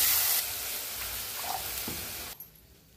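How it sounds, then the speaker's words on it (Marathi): Tempering spices crackle and sizzle in hot oil in a home kitchen, a steady close hiss of frying that runs for about two seconds before dropping away to a quiet background. "आता ती फोडणी चांगली तडतडली."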